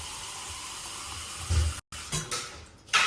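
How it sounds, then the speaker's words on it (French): Lukewarm kitchen tap water running for crêpe batter yeast, a steady soft hiss with short interruptions and a brief louder splash, fairly close, with no talking. "moi, je prends direct l'eau du robinet, genre tiède."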